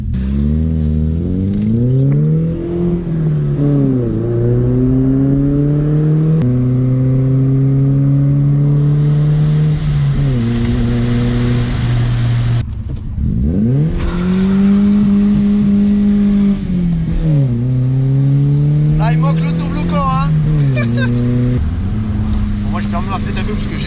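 A BMW E30 318 with about 115 horsepower accelerates through the gears, its engine note rising in repeated revving climbs and dropping at each shift, loud and close inside the car, with people talking over it.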